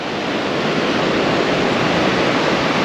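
Loud, steady rushing water and surf at a river mouth opening to the sea on the Sapphire Coast near Pambula and Merimbula, a continuous broadband roar close by.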